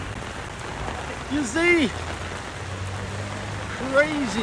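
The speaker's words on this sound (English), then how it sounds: "I am back to my favorite country in the world, Malaysia, but it's raining." Steady rain pours down in Kuala Lumpur, a dense even hiss of drops on surfaces all around, while someone speaks briefly over it.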